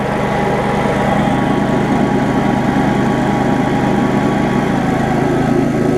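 A Honda UM2460 rough cut lawn mower engine runs loud and close, a steady, unbroken drone at constant speed with no talking.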